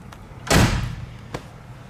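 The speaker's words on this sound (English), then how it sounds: "We're going to close that door." A 1971 Ford Mustang door shuts with one solid, close thump in a garage showroom, with a faint click a moment later.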